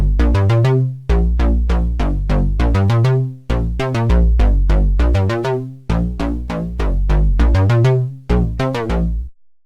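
Synth playing a simple retro 2-bar note pattern repeated twice, with quick plucky notes in rhythmic groups and a deep, punchy low end, loud and alone.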